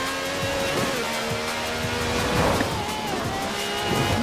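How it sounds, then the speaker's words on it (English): A V12 car with over 750 horsepower in Forza Horizon 4 revs hard, its engine tone climbing and dropping in quick shifts. The roar is loud and continuous, with a rougher tire-like hiss underneath. "This has a V12 with over 750 horsepower, plus bucket seats."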